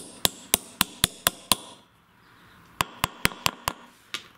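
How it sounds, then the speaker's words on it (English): A hammer lightly taps the sides of a bearing to seat it in a lawn tractor riding mower: two quick bursts of about six evenly spaced, ringing metallic taps, close and clear, with a short pause between. "just hit it lightly like I did, and now your bearing will go in nice and tight"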